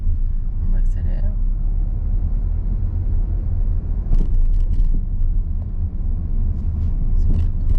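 A car's engine rumbles steadily from inside the cabin as it accelerates during a driving lesson, a low continuous drone with a few brief clicks and knocks, while people talk over it.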